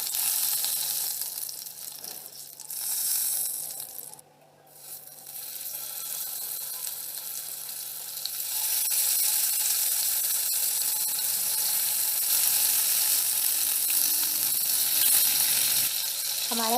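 Chicken tikka pieces sizzle as they fry in a pan. A continuous bright hiss runs throughout, dips briefly to a quieter stretch, then returns steady and loud, with faint clinks over it.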